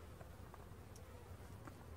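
Calm honeybees humming inside an opened beehive, a soft, faint, continuous drone with low-pitched rumble, steady throughout the short stretch.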